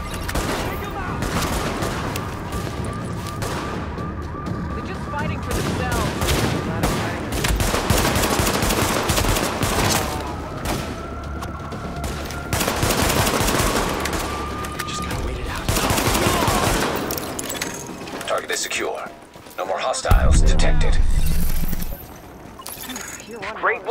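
Heavy gunfire in The Division video game: sustained automatic bursts and scattered shots with some breaking and shattering impacts, loud throughout, with voices talking over parts of it.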